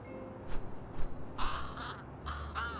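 In the video game Little Kitty, Big City, a crow caws several times in hoarse, rasping calls, fairly close and clear over a soft background hum.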